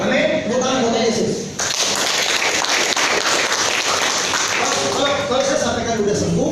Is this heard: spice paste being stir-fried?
no